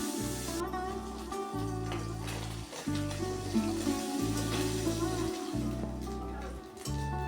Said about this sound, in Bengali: হলুদ লবণ মাখানো ছোট মাছগুলোকে একটু লাল করে ভেজে নিতে হবে।